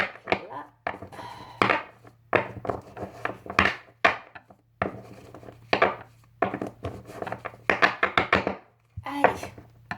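Oracle cards being shuffled by hand, a series of brisk riffling and slapping bursts in irregular clusters, close and crisp, with short pauses between each shuffle.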